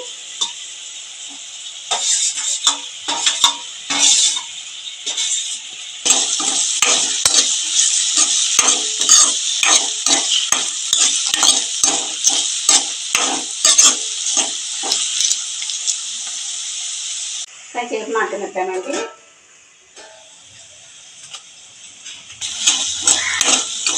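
Green chillies and tomato frying in a pan for a village-style gongura paneer curry, a steady close sizzle with repeated scraping stirs of a spoon throughout, briefly pausing near the end before the sizzling resumes.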